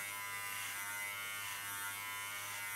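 Electric hair clippers buzz steadily while cutting hair, a close, constant motor hum with a bright whine and no pauses, heard alone.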